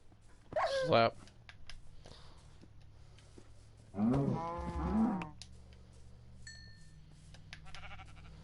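Two low, drawn-out cow moos from Minecraft, each lasting about a second and separated by a long quiet gap, heard clearly over a faint background with no talking.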